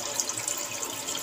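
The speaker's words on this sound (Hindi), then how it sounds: "ये इसमें एक ग्लास पानी गया," A glass of water poured into a cooking pot holding beef for a gourd and meat curry, a continuous splashing pour at moderate volume with no talk.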